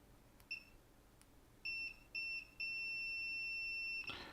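An Owon XDM1241 multimeter's continuity tester gives a few short electronic beeps, then one long steady high-pitched tone lasting over a second, loud and clear against a quiet background.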